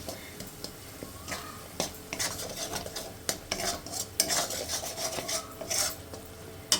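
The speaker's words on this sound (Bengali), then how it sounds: "গ্যাসের ফ্লেমটা কমিয়ে দিয়ে এই মশলাটাকে একটু ভালো করে কষিয়ে নিতে হবে" Spice paste stirred and fried in a pan over a lowered gas flame, with a spoon scraping and rasping in uneven strokes against a soft sizzle, close and fairly quiet.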